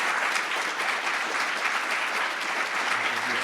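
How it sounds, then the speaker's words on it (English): An audience applauds a speaker at a talk on Black liberal arts and racism, a dense, continuous clapping from many people held at a steady level throughout. "I just want to ask everyone to give another round of applause to Dr. Cato"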